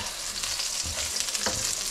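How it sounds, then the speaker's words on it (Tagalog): Garlic and onion frying in hot oil for chicken afritada, a steady, close sizzle filling the whole stretch, with a couple of brief stirring scrapes partway through and no talking. "Bawang at sibuyas sa ating kumukulong mantika."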